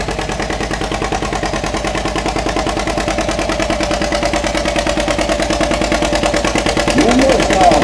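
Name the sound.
1949 John Deere B tractor engine running at tractor pull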